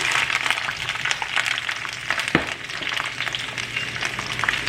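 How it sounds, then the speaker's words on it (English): Capsicum and onions fry in hot oil over a medium flame, giving a loud, dense, continuous sizzle with a single sharper clatter partway through. "And now we will fry the capsicum and the onions for about 5 to 6 minutes at a medium flame"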